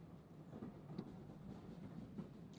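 A moving train in the Code: Realize video game rumbles quietly along, a low steady drone broken by soft, faint rhythmic clacks of the wheels.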